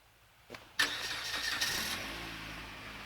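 Car engine being started to warm up in snowy weather, a brief starter crank followed by the engine catching with a sharp burst and settling into a steady idle nearby.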